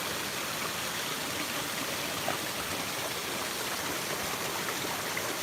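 River water rushes in a steady, unbroken wash close by, with no voices and no pauses.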